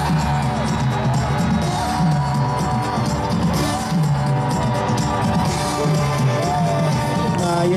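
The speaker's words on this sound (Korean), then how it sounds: "지금부터 여러분 세계 최고로 큰 함성 전방에 7초간 패스!" A large crowd at a pop concert at the DMZ in Cheorwon roaring, cheering and shouting loudly and continuously, with rising whoops and yells layered over the dense noise.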